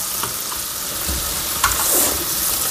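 Pumpkin frying in a pan over medium heat gives a steady sizzle with occasional sharper pops and crackles, close and continuous throughout.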